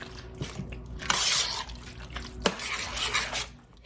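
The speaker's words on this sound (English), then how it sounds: "give that a good stir" A spoon stirs homemade chili in a pot at close range, with wet, sloshing scrapes and a couple of sharp clinks against the pot.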